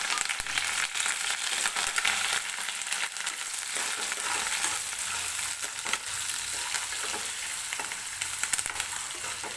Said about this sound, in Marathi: कांदा आपल्याला हलकासा मऊ होईपर्यंत तेलामध्ये भाजून घ्यायचा आहे